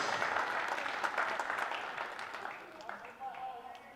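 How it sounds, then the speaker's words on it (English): Applause from spectators in a basketball arena at a secondary schools national championship, honouring the two women referees; steady broadband clapping that thins out toward the end, with crowd murmur and some talk mixed in. "Please make a round of applause for referee Bethany Mahoney and referee Emma Aheng"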